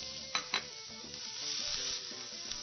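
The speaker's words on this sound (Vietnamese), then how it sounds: "giờ mình sẽ cho rau củ vào mình xào nè" Vegetables and mushrooms stir-fried in a pan, a soft continuous sizzle with a couple of sharp scrape or clank accents from stirring near the start, fairly quiet and close.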